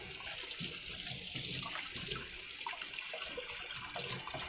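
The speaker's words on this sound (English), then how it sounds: "Rinse out this vessel here" Water runs steadily from a kitchen tap as a cooking vessel is rinsed under it, a continuous broadband splashing with small shifting gurgles, close and alone without any voices.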